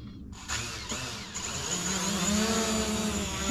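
A camera drone spins up and lifts off, its motors rising from a short start into a steady, strengthening high whine that grows louder as it flies.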